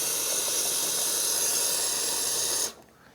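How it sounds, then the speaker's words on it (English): A Futurete Horizont commercial espresso machine dispenses hot water into a cup with a loud, steady hiss that runs for nearly three seconds and then cuts off abruptly. "so I'm just going to press the water button here, fill up my cup."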